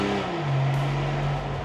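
A 210 kW Ineos Grenadier engine revs briefly, a steady rising drone that holds loud and close for under two seconds with no talking.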